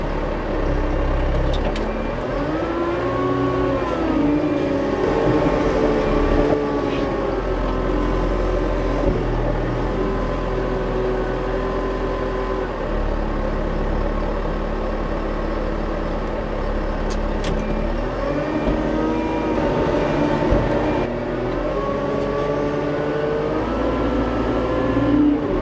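A Manitou telehandler engine runs steadily at close range for the whole stretch, with a continuous low rumble and some shifting engine tones that rise and fall as it works.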